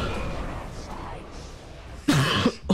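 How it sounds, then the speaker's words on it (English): A person coughs abruptly after an aborted sneeze, a sharp throaty burst near the end following quieter breathing and background noise, close to the microphone. "Oh, that sneeze turned into a cough."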